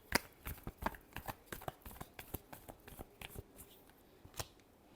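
Tarot cards being shuffled by hand, a quiet close series of quick riffling flicks and taps in an uneven rhythm, alone without talk.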